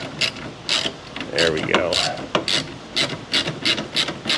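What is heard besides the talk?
screwing a bolt into a threaded hole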